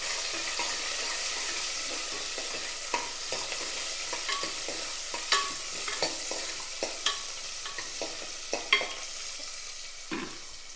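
Small onions, added after curry leaves, sauté in a pan under a soft continuous sizzle, with quieter scattered clicks and scrapes of stirring up close.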